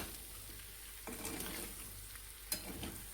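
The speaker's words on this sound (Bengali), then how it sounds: "ভালো করে নাড়াচাড়া করে দিলাম।" Pasta stirred with tomato sauce in a pan gives a faint, close sizzle broken by two scraping bursts of the spoon, each a second or so long, with no talk.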